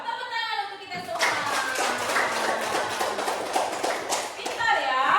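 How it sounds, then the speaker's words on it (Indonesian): A fifth-grade class claps together for everyone, a burst of fast, dense clapping starting after a second of a voice and running steadily for several seconds, with speech mixed in. "Tepuk tangan untuk kita semua."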